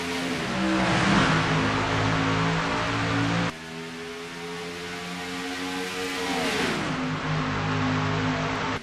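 A pack of race cars at a green flag start in an NRLOA race sends up a roaring, rising engine drone, with pitch climbing and shifting as the field accelerates past.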